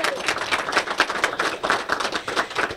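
A morning session audience claps for a representative of an air ambulance service, individual claps distinct and fairly close, forming an uneven, lively patter.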